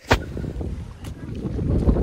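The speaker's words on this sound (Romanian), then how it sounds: "Suntem în câmp și bate vântul." Wind gusts across an open field near a pink salt lagoon outside Torrevieja, Spain, a steady low rumble with buffeting against the microphone.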